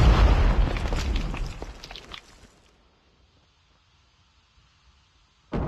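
A flashbang grenade detonates in the mobile shooter game COD Mobile, a loud close burst that rumbles and fades over about two seconds into near silence, then another abrupt sound cuts in at the end.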